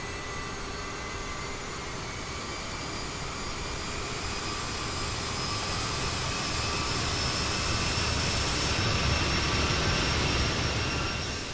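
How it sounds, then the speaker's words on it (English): Bombardier CRJ 550/700 regional jet engine in Microsoft Flight Simulator heard from outside while held on the brakes, a steady whining roar with tonal hiss slowly swelling as it spools up, alone with no talk. "I thought you might just enjoy the sounds from the outside there as I spool her up."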